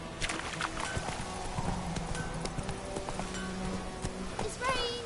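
Roach the horse galloping in The Witcher 3, rapid rhythmic hoofbeats close and steady throughout, with a brief whinny near the end and game ambience underneath.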